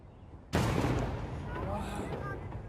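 Fireworks mortar cannons fire at a pyrotechnics show, a sudden loud blast followed by a sustained roaring, crackling rumble close by.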